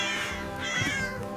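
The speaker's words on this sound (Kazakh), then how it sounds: "Ол мяу деген дыбыстар шығарады." A domestic cat meows clearly and close up, with a couple of drawn-out, tonal calls that rise and fall over a soft background.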